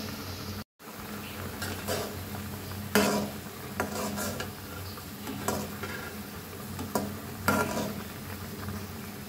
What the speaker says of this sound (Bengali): আর একটু জাল করব তাহলেই হয়ে যাবে আমার আমের টক রান্না করা